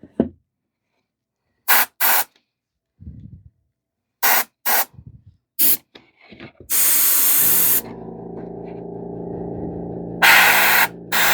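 An airbrush sprays paint on an Iron Man Mk85 model in several short, sharp hissing bursts separated by silence, then a longer sustained spray over a low compressor hum, with more bursts near the end.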